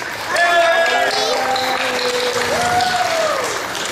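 Audience applause after a Bengali cultural association's dance performance, a dense, steady wash of clapping from a large crowd lasting throughout, with a few voices calling out over it.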